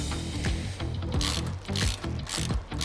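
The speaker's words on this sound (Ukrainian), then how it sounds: "беремо набір інструментів і прикручуємо наш перший болт. Е, для цього болта нам знадобиться два ключа на 17." A bolt on a Kiyashko boat trailer being tightened with two 17 mm wrenches: repeated close metallic clicks and ratcheting scrapes in an irregular rhythm, no speech.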